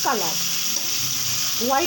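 Pointed gourd (potol) pieces frying in a pan for doi potol, a steady close sizzle with brief voiced sounds at the start and end.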